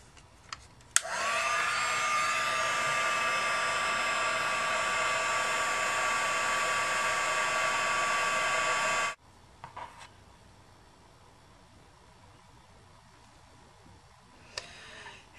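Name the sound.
hair dryer heating embossing powder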